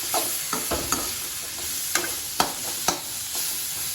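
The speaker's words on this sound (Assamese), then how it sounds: "এতিয়া মই আন্দাটো ইয়াতে ভাঙি দিম আৰু।" An egg cracked into a hot pan fries with a steady sizzle, broken by several sharp clicks and scrapes of a utensil against the pan.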